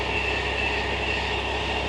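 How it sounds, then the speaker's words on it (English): A train passing near a canal while a narrowboat cruises, a steady continuous rumble with a constant mechanical hum holding at even loudness throughout, with no talking. "Train!"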